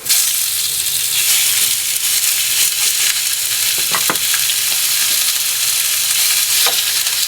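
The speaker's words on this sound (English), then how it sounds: "We're going to saute everything in together here now." Potatoes and vegetables sauté in a hot pan over a flame, giving a loud, constant close sizzle and hiss with a few faint stirring scrapes and no talking.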